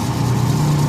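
A repaired spin dryer motor, overloaded before the fix, runs steadily with a close, continuous low hum and a faint whirring rattle over the short stretch.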